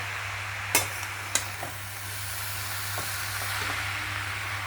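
Potatoes and cabbage are stirred together in a pan for a Bengali cabbage curry, giving a steady soft sizzle with two sharp scraping clinks early on and a few faint taps, with no talking.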